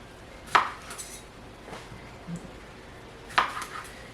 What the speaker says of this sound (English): And here's the mandolin. We'll slice it pretty thin.